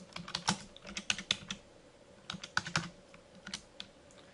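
Quick, uneven keystrokes on a computer keyboard as a Unix command is typed into a terminal session, close and fairly quiet, with short pauses between bursts and no talking.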